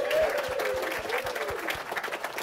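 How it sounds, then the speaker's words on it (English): Steady applause from an audience at an E3 2014 live Q&A panel, continuous clapping throughout with a voice or tone faintly audible underneath. "we got to keep that applause up so it doesn't fade by the time we get to Ryan."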